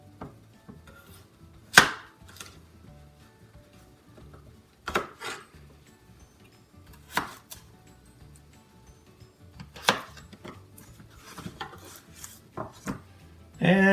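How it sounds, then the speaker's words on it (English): A River Trader French ball knife cuts through potatoes for beef stew, a few sharp, separate chopping strikes spaced out over quiet stretches. "this knife goes through these potatoes just like butter"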